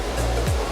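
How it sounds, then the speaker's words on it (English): The Oboadaka waterfall in Aburi, Ghana roars close by, a loud, steady wash of falling water with no pause through the brief moment. "So it's the Oboadaka waterfall, and it feels really good."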